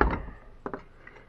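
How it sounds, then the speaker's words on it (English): Bolt carrier pulled out of an AK-47 rifle during field stripping: a few faint metallic scrapes and two quick close clicks, quiet and alone. "pull your bolt carrier out,"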